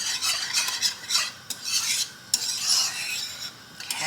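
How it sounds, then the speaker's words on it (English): Metal spatula scraping and stirring a pasta bake in a pot, close and irregular with rasping strokes and occasional clinks, no talking. "Try not to make too much noise with this metal spatula"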